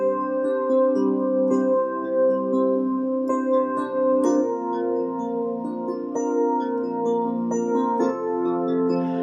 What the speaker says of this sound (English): is I can also play, and sorry for the excess background noise,